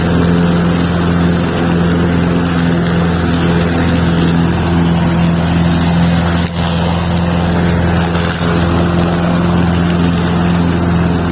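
A Honda HRB535 lawn mower runs with its drive engaged, a loud, steady engine drone with a strong hum, close by and unbroken apart from a couple of tiny dips.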